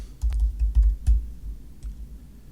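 Someone types a short burst of keystrokes on a computer keyboard, the clicks close and uneven, with muffled thumps between them in a quiet room.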